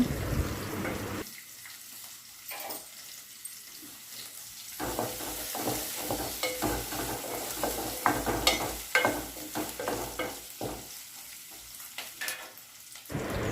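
Curry leaves sizzle and crackle in hot oil in a pan, an uneven stream of close frying pops and spatters with a few louder bursts, with faint scraping and water in the background.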